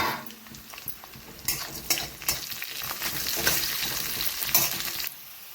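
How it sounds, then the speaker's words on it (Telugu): Garlic, tamarind, cumin and coriander seeds fry in a pan with a crackling sizzle and repeated scraping stirs of a spatula, uneven and close, then the sound drops off sharply near the end. "ఇప్పుడైతే వెల్లుల్లి చింతపండు జీలకర్ర ధనియాలు వేసేస్తున్నాను ఇవి కూడా బాగా ఫ్రై అయిపోవాలి"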